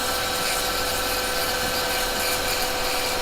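A wood lathe spinning a wooden workpiece during woodturning, giving a steady, loud motor whir with a constant hum and no talk.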